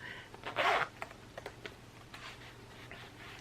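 A zipper on the inner pocket of a Chanel Wallet on Chain pulled once in a short, close rasping burst, followed by faint light ticks and handling sounds.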